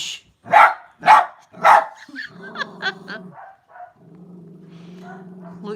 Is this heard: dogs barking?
yes